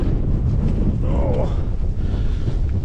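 Storm wind buffets a small tent, a constant loud rushing roar with heavy low-frequency microphone buffeting, while a voice briefly exclaims partway through.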